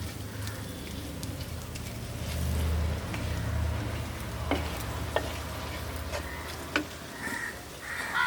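Garam masala and other spice powders fry in a pan as a spoon stirs them, a soft steady sizzle with scattered scraping clicks and taps, fairly quiet and with no one talking.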